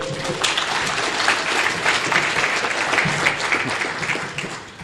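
An audience at an Alcoholics Anonymous gathering claps in a full, steady round of applause, loud and continuous, with faint voices beneath.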